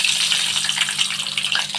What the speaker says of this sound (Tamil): தாளிப்பு வச்சுருவோம்.